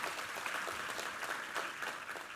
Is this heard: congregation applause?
yes